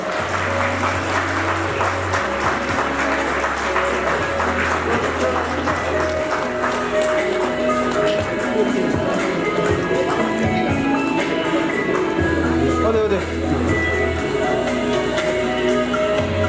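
Sustained applause from an audience at a book launch, loud and dense with steady clapping throughout, with some voices and a low tonal hum underneath.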